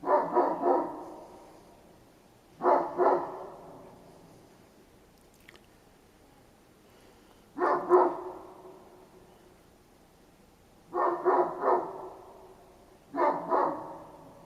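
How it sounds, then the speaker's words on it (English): One or two dogs bark at the sky in five separate bursts of a few loud, close barks each, with quiet stretches between them. "sometimes both dogs barking, just barking at the sky"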